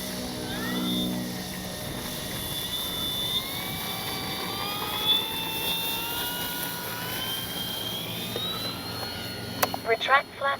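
FMS 1400mm F4U Corsair RC warbird taking off, its electric motor whining loudly and steadily with rising and falling pitch as it climbs away, a few sharp knocks near the end.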